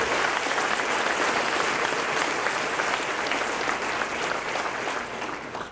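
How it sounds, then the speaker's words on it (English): A banquet crowd gives sustained applause for Pete Biscano at a college baseball dinner, dense clapping filling the room steadily before tapering slightly at the end. "let's give Pete Biscano a big round of applause"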